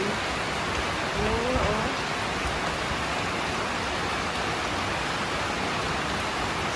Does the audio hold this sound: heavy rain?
yes